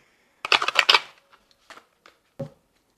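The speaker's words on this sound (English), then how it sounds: "Let's just give it a shuffle." Tarot cards are shuffled by hand: a quick flurry of crisp, riffling card snaps, followed by a few scattered light taps and a final soft card slap, all close and quiet with no talking.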